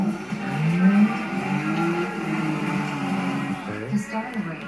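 Engine drone and tire noise from a car in a racing video game on a PS4, a sustained revving tone that rises and shifts in pitch, with a voice talking over it.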